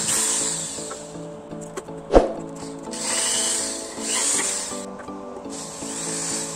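Intermittent electric drill whirring close by, boring holes in an amplifier box, with a sharp knock partway through and bursts of grinding as a bit cuts in.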